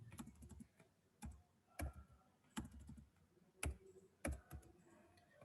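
Keystrokes on a computer keyboard as a web address is typed, irregular clusters of sharp clicks with short pauses between bursts, close and fairly quiet with no talking.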